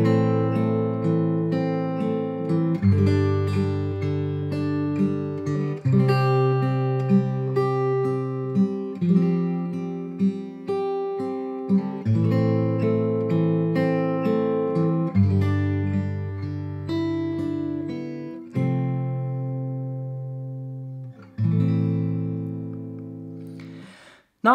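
Acoustic guitar plays a fingerstyle roll with thumb, index, middle and ring fingers, one plucked note after another in a steady repeating pattern. Chords change every few seconds, and the guitar is clear and close with nothing else behind it.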